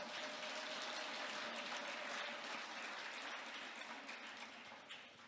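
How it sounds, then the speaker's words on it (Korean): Steady audience applause from a crowd at a public event, dense and continuous, tapering slightly toward the end, heard from a distance. "박수 한번 해주시기 바랍니다"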